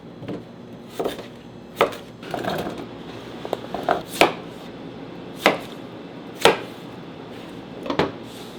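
A knife chops washed vegetables on a board for vegan gravy: about eight sharp, irregularly spaced strikes, close and crisp, with no talking.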